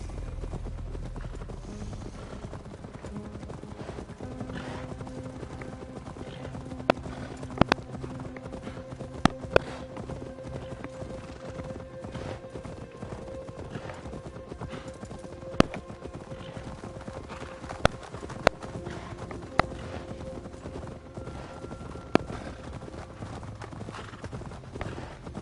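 Horse hooves in Assassin's Creed Valhalla clip-clop in a steady rhythm across the whole stretch, with a few sharper knocks and a faint whinny under quiet game sounds.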